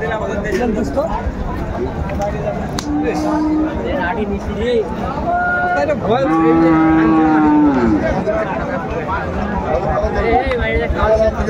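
Young bulls at a busy cattle market low loudly and close, with several drawn-out moos over constant crowd chatter and bargaining voices.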